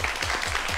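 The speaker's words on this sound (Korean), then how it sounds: "두 분을 박수로 모시겠습니다." Brief burst of dense audience applause at a Korean science talk event, many hands clapping together at moderate loudness.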